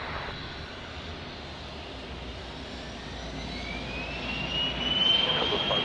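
A jet airliner rumbles on the runway at Dallas Love Field during a thunderstorm, a steady broad engine roar that swells louder toward the end as the aircraft draws nearer.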